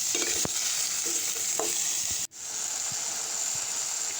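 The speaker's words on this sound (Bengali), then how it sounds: "তারপর হালকা পাতলা নাড়াচাড়া করে কষানোর জন্য বসিয়ে দেব প্রায় 5-10 মিনিট" Chopped vegetables for a jackfruit curry sauté in a pan, with a bright steady sizzle throughout and a few clinking stirs of a spoon early on, then a brief dip partway before the frying hiss returns.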